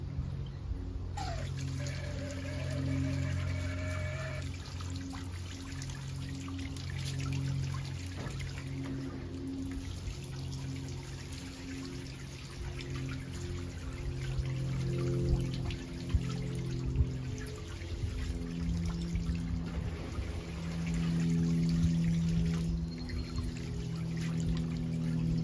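A poposoap 12W solar water fountain in a backyard makes a faint, continuous trickle and splash of falling water, with soft drips and a low background hum throughout.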